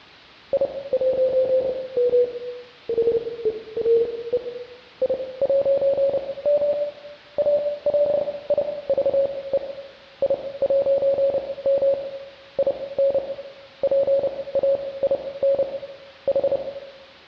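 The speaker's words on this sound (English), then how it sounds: "You may have noticed that Morse code played as that logo loaded in." A single-pitched tone beeps in uneven short and long bursts with brief pauses, like a coded signal over a slightly noisy line.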